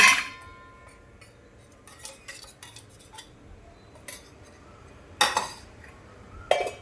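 A kadhai pan and a pressure cooker are handled while cooking, giving scattered metallic clinks and clanks, a few sharp louder knocks standing out against a quiet kitchen.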